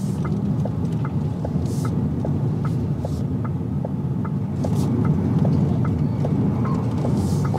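A Volkswagen ID.7 electric car rolls through a roundabout with a steady low road and cabin rumble, faint regular ticking, and no speech.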